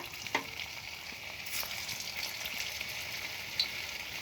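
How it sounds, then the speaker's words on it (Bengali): Fuluri fritters deep frying in hot oil make a continuous bubbling sizzle at moderate loudness, with a couple of faint clinks from a utensil. "এখন ফুলুরি ভাজার জন্য আবারও দিয়ে দেবো।"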